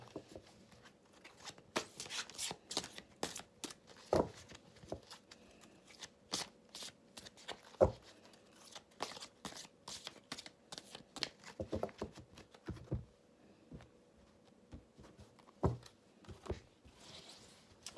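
Tarot message cards are shuffled by hand, a close, soft stream of rapid riffling and flicking with sharper snaps now and then, quiet and continuous with no talk.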